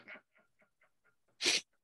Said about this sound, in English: I think I'm going to sneeze too